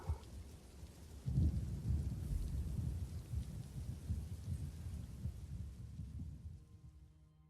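Soft steady rain patters in Elder Scrolls Online while a low rumble of thunder rolls through, then slowly fades toward quiet at the end.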